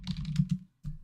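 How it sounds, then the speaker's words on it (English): Keys tapped on a computer keyboard to enter a search term, a quick close run of clicky strokes followed by a short pause and a final burst. "we're going to type in Global Dictionary"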